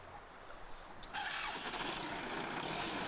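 Farm tractor engine starting in a farming video game: quiet ambience, then a sudden crank about a second in that catches into a steady, fairly loud running rumble that continues, with no talk.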